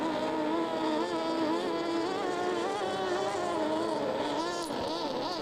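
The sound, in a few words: Mercury six-cylinder racing boat engine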